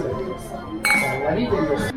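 Glasses of sparkling wine clink together in a Valentine's Day toast, two bright close clinks about a second apart, with a windy, choppy coastal setting at Polignano and voices murmuring underneath.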